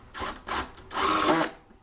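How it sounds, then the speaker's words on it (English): A cordless drill drives pocket screws into a wooden closet shelf in short bursts, two quick whirs and then a longer sustained run, close and fairly quiet. "flip it over and go ahead and screw it in with pocket screws"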